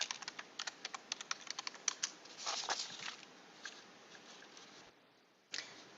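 Someone typing a search into a computer keyboard, a quick run of close, crisp key clicks that speeds into a dense burst, then a pause and a final firm keystroke, with no talk.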